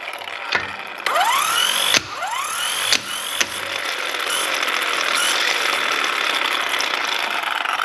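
Electric power tool working on car wheel lug nuts, several sharp impact bursts with rising whine, then a continuous loud motor run.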